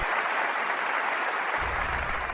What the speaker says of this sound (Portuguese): Um aplauso para o nosso irmão Carlos Eduardo.